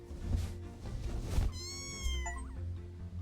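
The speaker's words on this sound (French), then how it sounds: "Faut écouter le bruit des chats" A kitten meows in the video game Mika and the Witch's Mountain, a clear high drawn-out cry over a soft game soundscape with low thumps.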